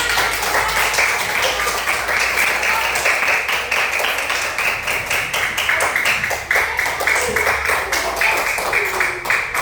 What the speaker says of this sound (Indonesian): Ya, beri tepuk tangan.